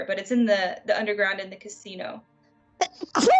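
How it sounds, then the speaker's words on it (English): A person talks steadily, falls quiet briefly, then lets out one loud, sharp sneeze close to the microphone. "I was trying to mute before I sneezed"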